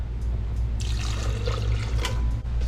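Coconut water poured for a buko shake, a steady liquid trickle and splash running for a couple of seconds close by, over a low background hum, with no talking.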